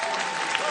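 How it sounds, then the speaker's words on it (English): A stand-up comedy audience claps in a brief burst, a dense wash of applause heard from within the room, with a little voice mixed in. "Thank you for clapping."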